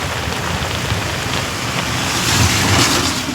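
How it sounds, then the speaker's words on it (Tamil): Rain pours steadily in a dense, loud hiss of falling drops, seemingly heard from an auto-rickshaw on a Chennai street, with a low rumble that swells briefly near the end and no talking. "மழையை பாருங்களா, செம்மையாக இருக்குது."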